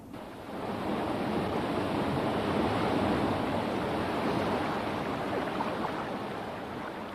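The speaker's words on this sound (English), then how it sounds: "As water flows over this fall, it carries some air with it into the stream below" A small waterfall pours into the stream below in a continuous, dense roar of falling and churning water that rises in the first second and then holds steady and loud throughout.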